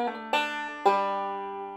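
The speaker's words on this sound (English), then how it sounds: "So the second half of the lick sounds like this." A bluegrass banjo plays the second half of a tag lick: a few plucked notes and two sharp strums that ring out and decay slowly, heard alone and close.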